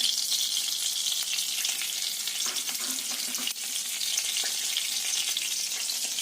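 Black cumin seeds sizzle in hot oil in a wok, a steady, close, fairly loud frying hiss that runs unbroken for several seconds with a few small crackles and no talk.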